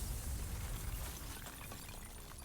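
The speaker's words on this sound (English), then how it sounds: "the building was engulfed in an explosion" A building-engulfing explosion in the video game Limbus Company, a dense, roaring blast of broadband rumble and debris that stays loud and sustained for the whole stretch.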